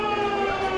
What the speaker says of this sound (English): And that is the siren gone.